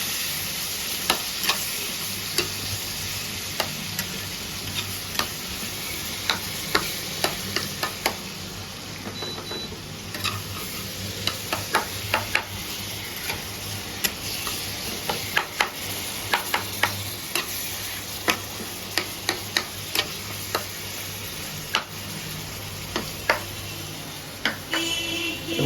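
Tomatoes, green chilies and potatoes sizzle in a pan while being stirred, a steady frying hiss with frequent sharp clicks of the spatula scraping and tapping the pan throughout.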